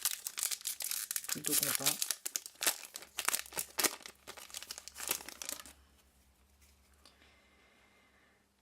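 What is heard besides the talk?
opening a trading card booster pack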